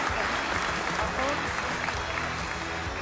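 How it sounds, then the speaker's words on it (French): An audience applauds steadily at an energy transition awards ceremony, a dense continuous clapping that fills the hall, with a voice briefly heard underneath. "Ils ont bien mérité vos applaudissements."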